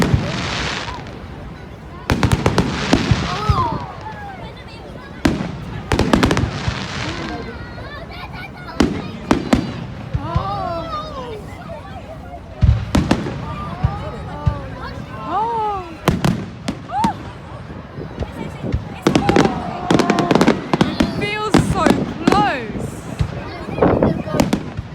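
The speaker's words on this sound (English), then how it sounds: "Fireworks. They're so beautiful." Fireworks burst repeatedly outdoors, a run of loud booming explosions and crackles arriving in irregular clusters, with voices of onlookers audible between and under the blasts.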